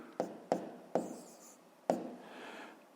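Numbers being written by hand for a 5th-grade maths exercise, four sharp taps of the pen or chalk followed by short scratchy strokes, quiet and close with no talking.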